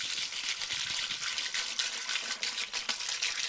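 Water poured from a jug into a sewer clean-out pipe at home during a drought, a close, continuous gushing splash with uneven surges, heard alone without talk.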